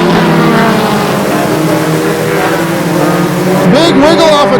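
Mini stock race cars at Flamboro Speedway roar steadily in a close pack, engines droning and shifting pitch as they battle side by side, with an announcer calling the race over the top.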